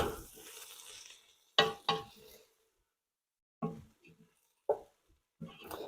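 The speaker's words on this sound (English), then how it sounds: "We have to keep stirring so the lentils, don't get stuck to the bottom or burn." Red lentil soup with cumin is stirred in a pot in short, separate scraping strokes, several quick bursts broken by stretches of near silence.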